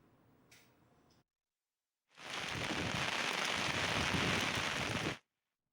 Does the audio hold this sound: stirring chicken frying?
no